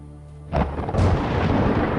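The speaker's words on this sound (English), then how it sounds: "Oh, the weather is shocking. Oh my gosh. One hell of a thunderclap." A thunderclap in the video game Atom RPG: a quiet start broken by a sudden heavy crack, then a second deeper boom that rolls on as a loud, sustained rumble.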